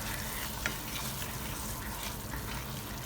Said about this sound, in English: And let's stir it up.